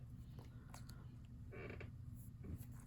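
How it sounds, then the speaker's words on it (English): A squeaky table creaks faintly during a card deck unboxing. A few short creaks and squeaks rise over a steady low hum. "My table is pretty squeaky."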